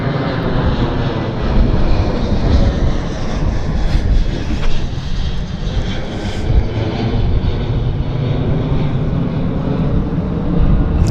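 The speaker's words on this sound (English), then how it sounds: "WestJet taking off. It goes right above my head." A WestJet airliner takes off directly overhead at Vancouver YVR airport, a loud, steady jet engine roar that fills the entire stretch without letup.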